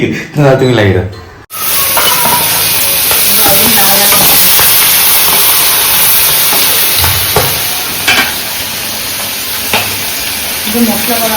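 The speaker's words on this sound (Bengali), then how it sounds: "মাছ ফ্রাই হচ্ছে এখন" Fish frying in a pan for a prawn malai curry meal, a loud, steady close sizzle and hiss that takes over after a brief stretch of speech, with faint clinks and voices now and then underneath.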